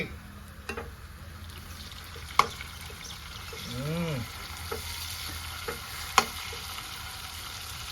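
Onions and tomatoes fry in a pan for a spicy crab fry, a quiet steady sizzle with a few sharp clinks of a utensil and a brief stir partway through.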